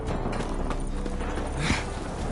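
Horse hooves clip-clopping in The Witcher 3 video game, a steady rhythmic patter of hoofbeats at moderate distance over ambient game background, with a brief snort near the end.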